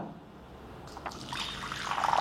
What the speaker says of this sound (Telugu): ఇప్పుడు చూడండి నేను వాటర్ పోస్తున్నాను దీంట్లో